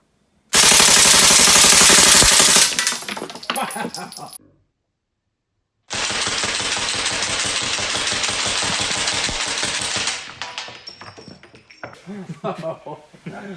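A machine gun fires at Lake Martin in two long sustained bursts separated by a short silence, loud and close, with a rapid rhythmic hammering that trails off into a few scattered shots at the end.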